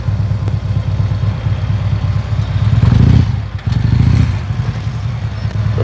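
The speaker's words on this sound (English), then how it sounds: "Now let's try some U-turns with the clutch disengaged." A Harley-Davidson Road Glide motorcycle engine loping at low speed during a slow U-turn with the clutch disengaged, a loud, close, rhythmic V-twin rumble that swells briefly and then settles.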